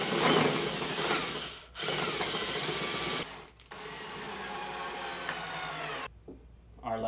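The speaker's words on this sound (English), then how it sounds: "drill your pilot hole" A power drill bores a pilot hole into a wooden floating shelf end piece, a steady whirring run of several seconds broken by brief pauses, close and fairly loud.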